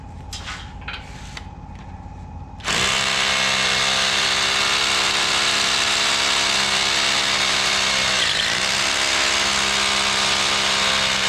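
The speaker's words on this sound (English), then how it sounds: "Hard to beat a new hammer drill and a new bit." A hammer drill starts up loudly after a brief lower noise and grinds continuously for about nine seconds, with a slight dip in pitch near the end.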